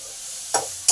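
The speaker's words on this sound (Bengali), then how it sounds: "গাজরটাকে জাস্ট 1 মিনিট ভেজে নেবো, বেশি ভাজবো না।" Carrots fry briefly in a pan for bun dosa batter, a low steady sizzle underneath, broken by two short sharp scraping stir sounds close by, without any talk.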